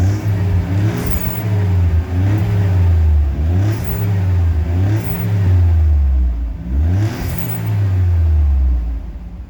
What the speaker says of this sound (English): and when I rev it